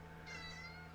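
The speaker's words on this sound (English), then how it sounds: "If you can hear a cat meowing." A pet cat named Chestnut gives a single short, faint meow indoors over a steady electrical hum.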